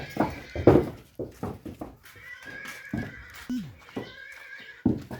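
A young foal whinnies in drawn-out, harmonic neighs, two main calls separated by pauses, fairly close and clear. A person speaks briefly in between.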